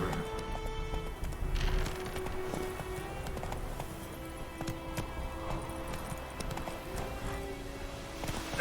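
Roach the horse galloping in The Witcher 3, a steady rapid clip-clop of hooves with a brief snort or whinny, moderately close, over quiet game sound and faint music.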